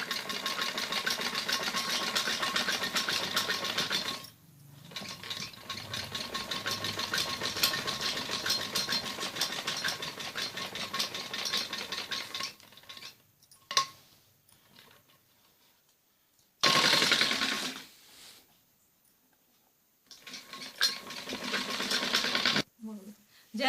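A sewing machine stitches piping around a kameez back neck, running in long fast continuous bursts with a rhythmic mechanical whir, close and loud, stopping briefly several times between runs.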